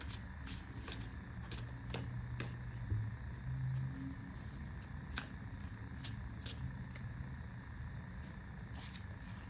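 Cards being shuffled in quick riffling bursts, a steady papery flutter repeating across the whole stretch, close up, with a low background hum.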